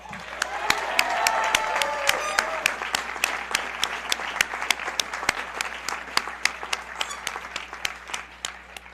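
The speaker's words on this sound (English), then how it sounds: "Put your hands together for Mr. Kupiak." Graduation ceremony audience for the class of 2022 applauding steadily, a dense wash of many hands clapping with scattered louder claps, sustained for the whole stretch at moderate distance, with faint cheering and murmuring mixed in.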